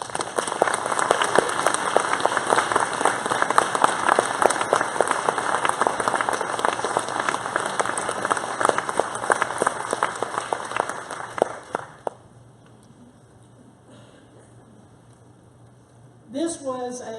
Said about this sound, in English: Church, please celebrate with me with a round of applause.